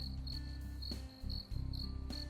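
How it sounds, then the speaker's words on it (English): Crickets chirp in a video game forest at dusk, a steady near chorus of pulsing trills with brief gaps, clear and alone. "Crickets and frogs sang a chorus that mixed with the nearby waterfall and your crackling fire."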